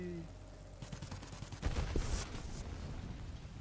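Bombs exploding in a World of Warplanes air battle, heard as a cluster of booming blasts mixed with rattling gunfire that swells midway, then settles into a steady rumble.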